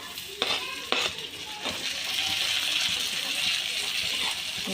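Tomatoes fry in a hot pan for egg bhurji with a steady close sizzle, while a spoon scrapes and stirs a few times near the start.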